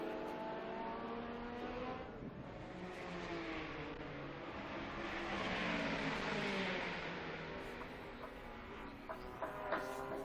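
Historic race cars scream down the straight at Estoril, engines rising and falling in pitch as they pass at a distance, with a second car's note sweeping in near the end.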